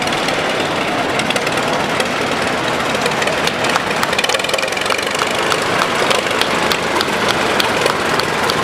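A 1938 Allis-Chalmers Model A tractor engine runs loud and close in a county fair tractor parade. It makes a steady, rough chugging drone with faint rhythmic knocking throughout and no talk.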